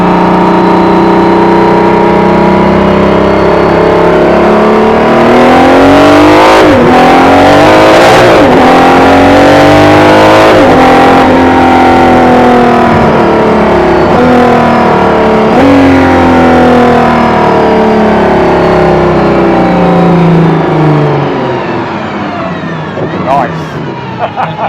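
A £3m Aston Martin Valkyrie's engine roars loudly and continuously on a road drive, the pitch climbing and dropping through repeated revs and gear changes, with a voice talking over the din.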